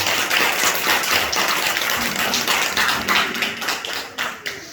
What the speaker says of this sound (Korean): 다시 한번 우리 감사의 박수.